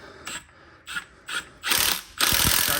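Socket wrench ratcheting hard while tightening a bolt during a rear lift kit and coil conversion on a Lexus GX470, with several short clicking bursts followed by two longer, louder runs of rapid clicks, heard close with no talk.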